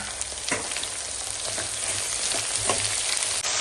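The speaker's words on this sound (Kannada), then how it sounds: "ಸ್ವಲ್ಪ ಫ್ರೈ ಮಾಡ್ಕೊಂಡು ಕ್ಯಾಪ್ಸಿಕಮ್ ಹಾಕ್ತಾ ಇದ್ದೀನಿ" Potatoes and capsicum fry in a pan for capsicum masala, giving a steady, close broadband sizzle throughout, with a few soft stirring scrapes and no talking.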